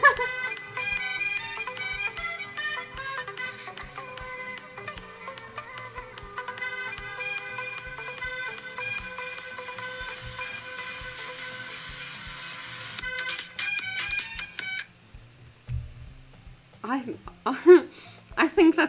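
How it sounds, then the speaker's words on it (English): A sped-up, high-pitched nightcore remix of a European party song plays from TikTok: a loud, dense, continuous electronic track for about fifteen seconds, then it cuts off and a voice speaks. "I think that's a nightcore version of a European party song."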